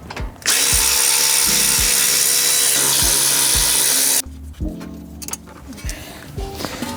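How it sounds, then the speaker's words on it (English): A power tool loosens the brake caliper bolts on a Subaru with a close, loud whirring run of nearly four seconds, then quieter clinks and handling noises follow, with some talk nearby. "Just remove these two caliper bolts."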